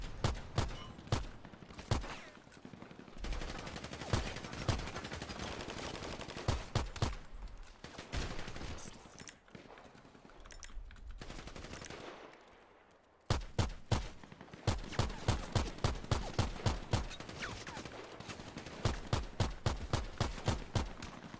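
Rapid bursts of pistol fire ring out in a PvP shooter game, sharp repeated shots in quick clusters with brief gaps, fairly loud and close, with no talk over them.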